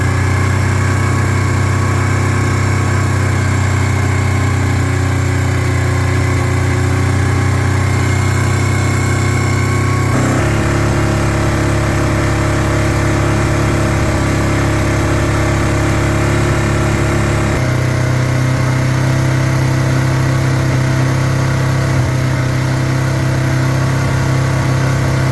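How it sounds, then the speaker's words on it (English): A modern water-cooled Yamaha 700 engine idles and revs loudly and steadily, its pitch shifting in distinct steps as the throttle changes, with no voices. "Here I have a 700 Yamaha. It's water cooled. It is a modern engine."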